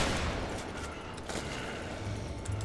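Gunshots in the zombie game Dead Island: Riptide, a dense, continuous barrage of rapid fire that stays loud and roughly steady throughout.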